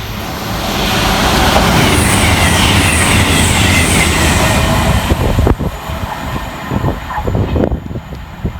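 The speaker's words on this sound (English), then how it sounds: "The train now approaching platform 2 does not stop here." A train rolls loudly through Sandy station without stopping, a heavy sustained rumble that eases after several seconds into clattering wheel knocks and clicks.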